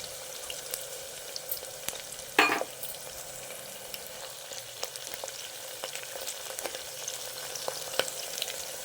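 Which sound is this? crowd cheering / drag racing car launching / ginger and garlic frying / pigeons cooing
ginger and garlic frying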